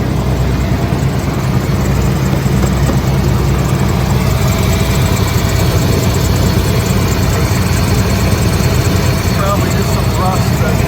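A Ford Gulf Stream Ultra RV engine idles steadily after starting, a loud continuous low rumble with a faint higher squeal from a rusty belt riding on top.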